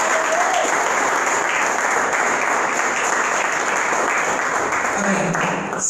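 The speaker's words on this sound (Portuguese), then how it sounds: "Vamos aplaudir a Deus?" Church congregation at a Portuguese-language worship service applauding God after an opening prayer, loud, dense, continuous applause filling the room with a steady high tone underneath, with voices mixed in.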